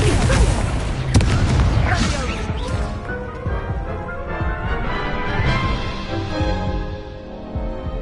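Confringo spell explosions crash out in Hogwarts Legacy during a duel. A sharp smash and booming impacts hit early, then a ringing tail decays. A voice speaks alongside the blasts.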